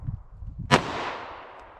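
A single sharp gunshot from a short-barrelled 9mm+P or .357 Magnum handgun loaded with Speer Gold Dot ammunition cracks loudly outdoors, then fades in a long echoing tail over faint low background noise.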